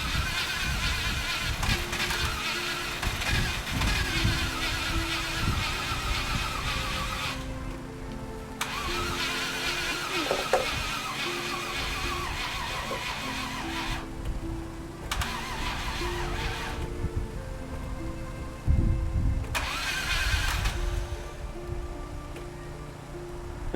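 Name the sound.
car engine cranking with starter and starting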